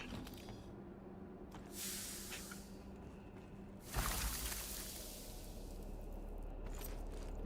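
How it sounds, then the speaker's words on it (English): Disruptor weapon in Dune Awakening sprayed at a shielded enemy: broad hissing bursts of spray noise, a short one near the start and a louder sustained blast from the middle onward, over constant game ambience. "I'm gonna spray him with a disruptor."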